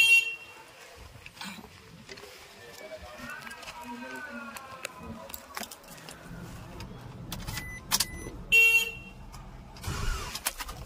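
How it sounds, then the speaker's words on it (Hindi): A car with a dead or failing battery is started, with mechanical whirring and clicks near the vehicle and a short horn-like tone, as voices talk over it. "गाइस अभी देखो स्टार्ट करता हूँ।"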